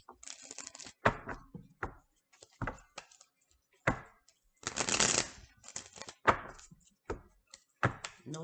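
Tarot cards are shuffled and drawn by hand in a quiet room, with repeated close riffles and soft slaps of cards landing, including one longer shuffle, with brief speech between them.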